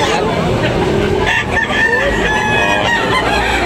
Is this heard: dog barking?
no